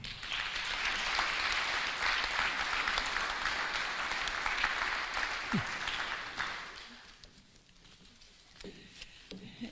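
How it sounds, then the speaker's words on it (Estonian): Sustained audience applause at a formal awards ceremony honoring regional businesses of the year, a dense, steady clapping wash for about seven seconds that then thins and fades to scattered claps. "siis teeme suure aplausi neile."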